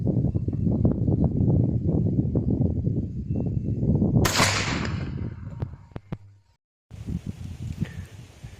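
A single shotgun blast with a 32 g 0000 buckshot load fired through a Carlson choke of 0.7 inch bore cracks sharply outdoors midway, after soft rustling, then fades quickly.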